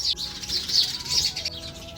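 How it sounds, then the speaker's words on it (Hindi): House sparrows squabble in a hill village, a flurry of bright, high chirps and tweets in quick bursts, fairly close and fairly loud, with faint background noise. "बहुत सारी चिड़िया आपस में लड़ रही हैं।"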